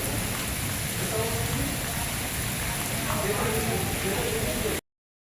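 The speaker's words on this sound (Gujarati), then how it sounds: "ભાવનગરમાં પણ કમોસમી વરસાદી ઝાપટા જોવા મળી રહ્યા" Unseasonal rain shower in Bhavnagar city: steady rain hisses down in a dense, continuous shower, fairly loud throughout, then the sound cuts off abruptly.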